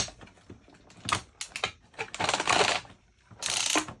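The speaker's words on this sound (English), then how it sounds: "And the ratchets don't make it any easier." Plastic ratchet joints on the arms of a Lewin Resources Atlas transforming robot toy, an Optimus Prime lookalike, give a series of close, sharp clicking and grinding bursts as the arms are moved, with short pauses between.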